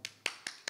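Several sharp, isolated hand claps, four evenly spaced crisp strikes in under a second, close and fairly loud with no talk, during a gathering at a Krishna devotional class.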